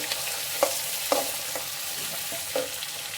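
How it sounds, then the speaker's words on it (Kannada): Curry leaves and onion frying in oil for a Shyavige bath vermicelli dish, a soft steady sizzle with a few faint stirring scrapes, close but quiet, no voices. "ಕರಿಬೇವು, ಈರುಳ್ಳಿ ಸ್ವಲ್ಪ ಗೋಲ್ಡನ್ ಬ್ರೌನ್ ಬರೋವರೆಗೂ ಎಣ್ಣೆಲಿ ಫ್ರೈ ಮಾಡ್ಕೊಳ್ಳಿ."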